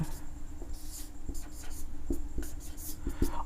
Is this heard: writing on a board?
yes